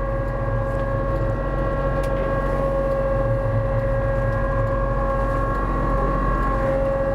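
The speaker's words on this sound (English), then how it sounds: "now when I push forward, that cutting edge is gonna ride along the asphalt and scrape it clean and take the snow with me." A Kubota B2650 cab compact tractor with a front loader scrapes light snow off asphalt, giving a steady loud engine drone with a constant tonal hum and low rumble and no clear breaks.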